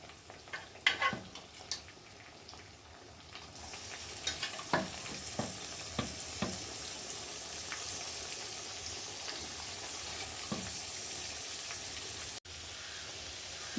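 Beef fries in batches in a pan. Sharp clinks of stirring come first, then a sustained sizzle with scattered scraping taps from the spoon.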